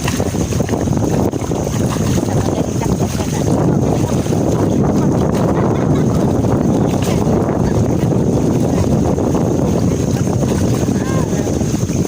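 A small boat motors across open water while strong wind buffets the microphone in a constant roar; voices are faintly present beneath the noise.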